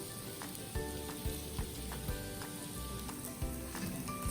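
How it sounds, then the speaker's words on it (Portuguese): Onion sautéing with salt and pepper gives a soft, steady sizzle in a pan, with a few light knocks of stirring, quiet and close. "Agora a cebola já está aqui mais ou menos uns 20 minutos, você vê que ela começou a já caramelizar aqui sozinha."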